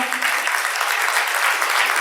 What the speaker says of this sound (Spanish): A mí me gusta dedicarles a ustedes un aplauso de los que estamos acá en vivo